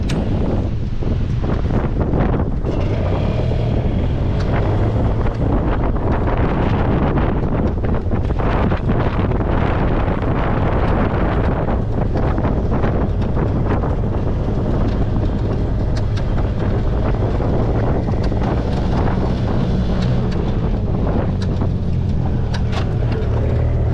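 Yamaha G1 golf cart driving along outdoors, a steady loud engine drone mixed with heavy wind buffeting the microphone, continuous for the whole stretch with no talking.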